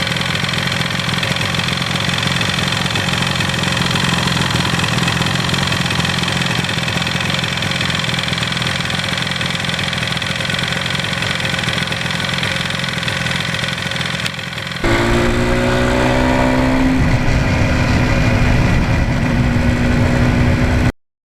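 A 1977 Yamaha RD400 motorcycle engine runs at a steady, close idle, then shifts pitch and rises near the end before cutting off abruptly.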